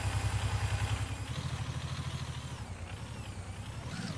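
A Gear Blocks video game vehicle with full exhaust and mufflers idles and revs, producing a pulsing low engine rumble with a rhythmic throb that shifts pitch slightly, alone without talk.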